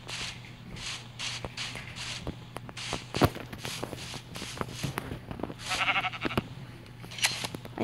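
Repeated sheep bleats in a video game over a steady hum, mixed with clicky footstep-like sounds, moderately quiet and intermittent.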